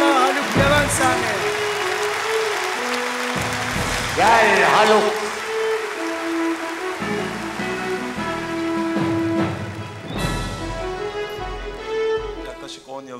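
Audience applause at the 2002 Kral Turkey Music Awards as the best rock artist is called up: a steady wash of clapping beneath band music, while someone speaks briefly over it.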